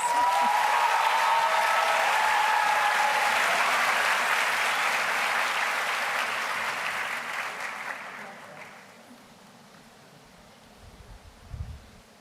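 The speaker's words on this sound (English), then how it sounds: "A big round of applause." Broad, steady applause from a large audience at a university welcome ceremony greets the Rector and Vice-Chancellor, holding loud for about eight seconds before thinning out and fading to near quiet.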